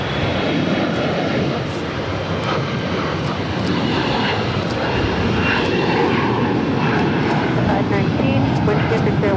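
A jet airliner takes off from runway 22 right at Boston Logan, a dense, steady engine roar that holds strong throughout, continuous and fairly loud from a distance.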